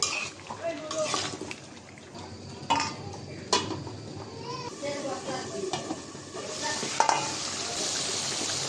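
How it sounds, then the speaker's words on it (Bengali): Potatoes and ash gourd sautéed with beef in a pot, with close sizzling, stirring scrapes and utensil clinks against the pot, at moderate level and with no speech. "আলু আর জালি কুমড়া এটাও কষাই নিব ভালো করে"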